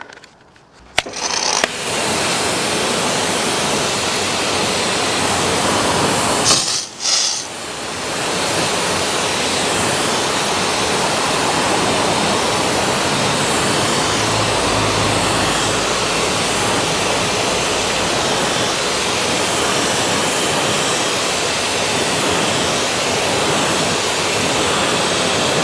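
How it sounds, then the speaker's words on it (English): A pressure washer jet rinses foam and shampoo off a Volvo XC60 in winter, a loud continuous hissing spray that starts abruptly, breaks off briefly once, then runs on steadily and close. "I'll give everything a jet wash off now and see how it looks."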